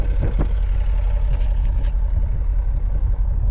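A 2008 Dodge Charger SRT8 Super Bee with an aftermarket exhaust idles close by, a steady, deep, low rumble that holds evenly throughout with no revving.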